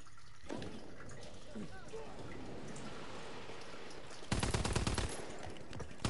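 Machine gun fire in a World War II shooter game: a brief, loud, rapid burst of shots near the end, cutting through a steady hissing ambience and a distant earlier rattle, with a voice talking quietly.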